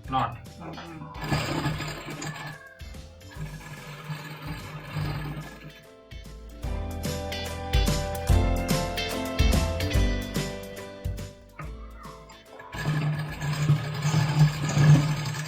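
A sewing machine stitches a blouse with a rough running seam along the edge. Its motor hum runs in stretches, rising and pausing, while someone talks over it at close range.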